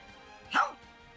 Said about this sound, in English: It sounds like a frightened dog.